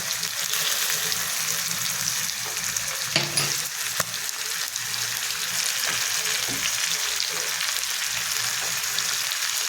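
Mutton pieces fry in a pan with a steady, continuous hiss and crackle, with a few faint clinks of stirring; no voices.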